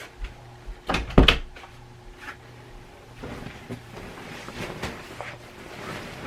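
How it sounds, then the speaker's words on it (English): An indoor door swings shut with a couple of sharp knocks and a thud near the start, followed by quieter shuffling and faint rustles. "I'm going to close my door"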